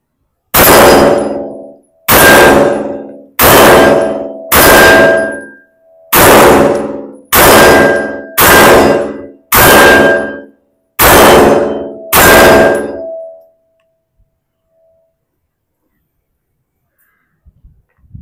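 A Stribog SP9A3SG pistol-caliber firearm fires about ten sharp, ringing shots at a steady, unhurried pace, each loud crack trailing a metallic clang, followed by silence.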